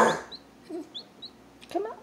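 A Bantam Cochin chick making a few soft, short peeps and clucks, close by in a quiet room, with a brief voice at the start.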